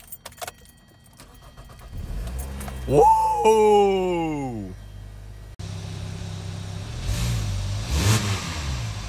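A 2013 Hyundai Sonata starts up cold in freezing weather, its engine catching and revving loudly near the listener, followed by a steady idle with brief surges, while keys jangle and a person exclaims over it.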